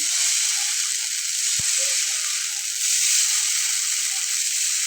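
Rice-flour batter for chita pitha sprinkled by hand onto a hot pan, giving a steady loud sizzle with a faint hiss and one brief knock partway through.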